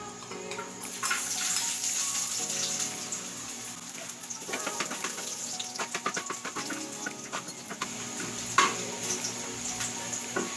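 Garlic sizzles in hot oil in a pan, a crackling, popping fry with irregular spits and clicks at moderate loudness, a bright steady hiss beneath, no talking.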